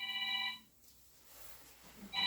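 A mobile phone ringtone chimes out during a Korean church Sunday worship service, bright repeated electronic tones that stop, then start again after a short pause, heard clearly in a quiet hall.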